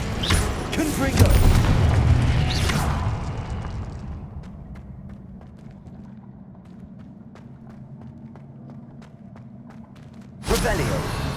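Confringo fire spell explosion in Hogwarts Legacy, a loud booming blast at the start with crackling debris that fades into a quieter rumbling ambience, then another sharp burst just before the end.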